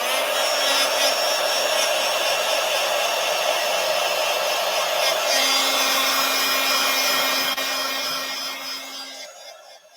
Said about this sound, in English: I'm going to use my old Doris heat tool. It does make a lot of noise